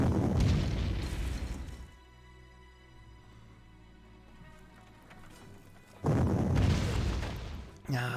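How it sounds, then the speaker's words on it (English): Artillery fires in the Panzer Corps strategy game as two heavy booming blasts, one at the start and one near the end, with quieter rumbling between them. "This is artillery."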